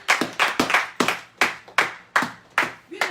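A church congregation claps in a steady rhythm of about nine loud, close, sharp claps with no talk.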